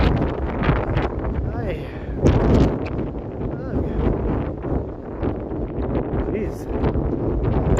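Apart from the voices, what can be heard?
strong wind blowing outdoors in the city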